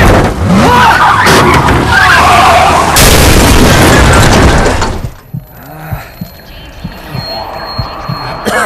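A truck crashes in the video game Into the Dead 2, a loud burst of impact and skidding with breaking, shattering debris for several seconds, then dropping to quieter scattered clatter and rumble.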